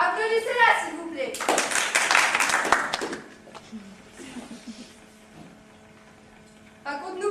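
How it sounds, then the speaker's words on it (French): An audience claps at a high school theatre evening, a burst of steady applause lasting under two seconds between spoken lines, with a voice before it and a quiet hum and faint talk after it fades. "Applaudissez-la, s'il vous plaît."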